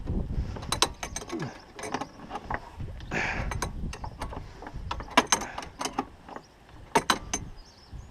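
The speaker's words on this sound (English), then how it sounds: "This spring compressor's done its job, this one here." A spring compressor is worked on a Mini One front strut, giving repeated close metallic clicks and ratcheting clatter at an uneven, busy rhythm.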